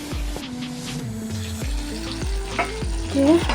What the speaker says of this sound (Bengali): বাদ বাকিগুলো এইভাবে ভেজে নেবো।